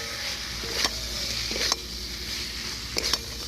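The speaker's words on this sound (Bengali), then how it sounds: "আলু দিয়ে আর একটু নাড়াচাড়া দিয়ে নিই।" Chicken curry with fried potatoes sizzling in a pan, oil crackling steadily while a spoon scrapes and stirs in a few distinct strokes, close and clear with no talking.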